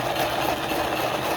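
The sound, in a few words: 3D printed rock tumbler running with rocks and coarse grit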